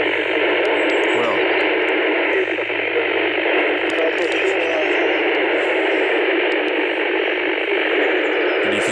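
PMR handheld radio reception during a portable station setup, a steady loud hiss of static and noise filling the whole stretch, with faint broken traces of a distant voice beneath it.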